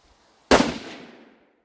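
A new Savage Axis 6.5 Creedmoor rifle fires a single sharp, loud gunshot while being sighted in at a range, the report decaying over about a second into quiet.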